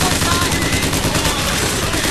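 Rapid, continuous gunfire in the shooter Bioshock Infinite, a loud, dense stream of shots hammering without pause through the whole moment.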